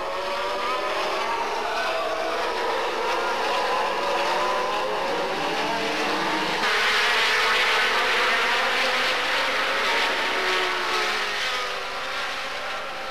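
Formula 1 cars of the 1987 season race past, their high-pitched engines screaming and rising through the gears, several cars overlapping as they pass close, with a louder surge midway as one overtakes another in front of the pits.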